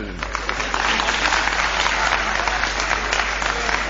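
Audience at a comedy joke performance breaks into steady applause, a dense continuous patter of clapping over a low hum that holds level for several seconds.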